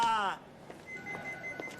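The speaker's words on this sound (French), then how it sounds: "Téléphone!" A telephone bell rings out once, loud and close for about a quarter second, then stops, leaving a quiet room with a faint hum and a couple of small knocks.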